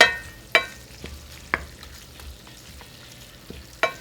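Guindilla peppers and shrimp frying in olive oil with parsley, a quiet steady sizzle broken by a few sharp spoon knocks against the pan as they are stirred.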